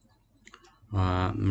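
A computer mouse gives a couple of soft, quick clicks in quick succession. A voice then starts speaking close to the microphone.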